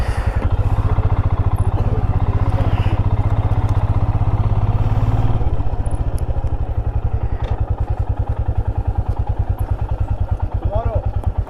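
Motorcycles in heavy traffic on the Zojila Pass road in Kashmir, steady close engine rumble with clattering and thuds throughout, talk mixed in.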